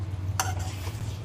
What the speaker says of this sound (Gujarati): અને એકદમ મિક્સ કરી લઈશું.